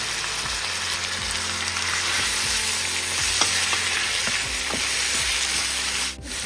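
Prawns sautéing in a pan with salt and turmeric for a mint prawn gravy, a constant hiss of frying broken by repeated spatula scrapes and taps, loud and close.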